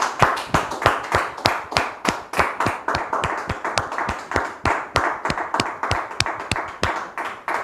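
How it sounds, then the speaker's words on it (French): An audience claps steadily and briskly, many hands together in an even rhythm that keeps going throughout, with no talking over it. "recevoir ici et maintenant Muriel et Arnaud sous vos applaudissements."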